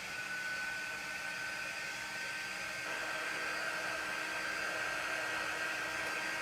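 A hair dryer blows steadily over a decoupage craft piece, a constant close whooshing drone with a thin whine that holds unchanged the whole time, with no voices.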